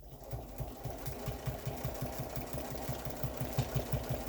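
A domestic sewing machine runs steadily while doing pantograph machine quilting on a quilt, its needle producing a fast, even mechanical chatter with a low motor hum, close and moderately loud.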